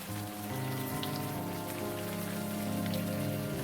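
Steady rain pours down in the video game Unavowed, a dense, even hiss of drops on surfaces with a low droning tone underneath, continuous and fairly close with no voices.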